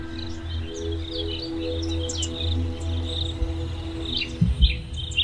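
A cricket chirps in short, high, repeated bursts over a steady low hum, fairly faint, with a couple of soft knocks near the end.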